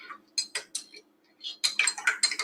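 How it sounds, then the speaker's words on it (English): Metal spoon clinking and scraping against a cup while stirring honey into hot coffee, a run of light, bright taps and swirls that grows busier and more continuous toward the end, close and fairly quiet. "you want to stir the honey in first with the hot coffee"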